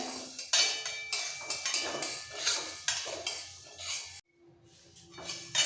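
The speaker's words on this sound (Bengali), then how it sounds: "এবার এই ডালটা লাল হওয়া পর্যন্ত মিডিয়াম ফ্লেমে রেখে কন্টিনিউ নাড়াচাড়া দিয়ে নিতে হবে" Metal spatula scraping and clinking against a wok as mung dal is dry-roasted over medium flame, steady repeated strokes close by with a brief pause near the end.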